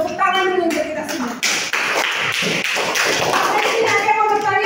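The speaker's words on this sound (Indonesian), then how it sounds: "Tepuk tangan dulu untuk kita semua." Students in a classroom clap together in a short burst of taps and thuds, mixed with a talking voice and room noise throughout.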